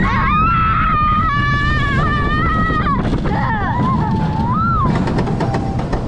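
High, sustained screams ring out from riders on an amusement park ride at Europa Park, loud and close over heavy wind and ride rumble, with wavering pitch and brief breaks between shrieks.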